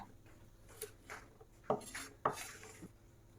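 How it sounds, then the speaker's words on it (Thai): A knife slices Chinese kale stems diagonally on a cutting board while preparing stir-fried kale with salted fish: two crisp, close chops stand out over faint rustling and handling noise, with no speech. "เราก็มาหั่นท่อนโดย สไลด์เฉียงๆแบบนี้ค่ะ"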